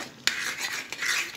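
A spoon scraping and stirring a chocolate topping of condensed milk, cream and semisweet chocolate in a pan on the stove, with soft swishing strokes and a couple of sharper clinks against the metal, close and fairly quiet.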